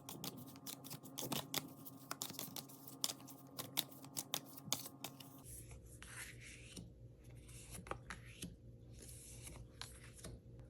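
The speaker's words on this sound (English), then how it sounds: "I'm going to shuffle the cards, and I'll lay out 3 cards" Oracle cards being shuffled by hand, quiet close-up riffling and sliding with sharp card snaps and soft rubbing, irregular in rhythm, with the texture changing partway through.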